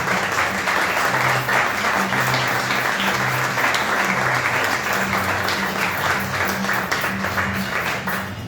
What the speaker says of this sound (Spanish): Bríndele un fuerte aplauso al que vive para el Señor